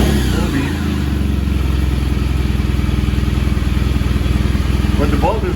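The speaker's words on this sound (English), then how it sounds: "Turn the bike on." A motorcycle running up close chugs at a steady, even idle with a rapid pulsing beat, while a person talks over it.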